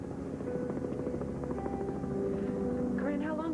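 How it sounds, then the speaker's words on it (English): A helicopter flies close overhead, a steady low thrum holding throughout with a tonal whine rising near the end; no one speaks over it. "Chopper."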